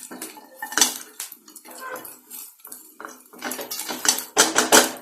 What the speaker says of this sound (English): At this time we'll add this fried babycorns. Give this a nice mix or a toss.